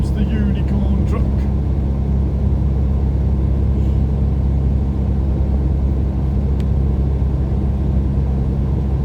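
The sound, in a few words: truck passing by on the highway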